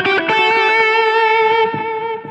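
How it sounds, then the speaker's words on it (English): Sustained electric guitar chord through a Line 6 Helix with delay placed before the reverb, a loud, distorted ringing tone with echoes washing into the reverb and fading at the end. "our delayed echoes are going to go through the reverb"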